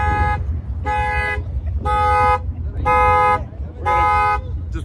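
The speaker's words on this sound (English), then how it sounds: "We're gonna just pause while we get our alarm sorted out here." A car alarm blares in a steady repeating pattern, with five loud regular honks about a second apart over low engine rumble at a BMW motorsport event.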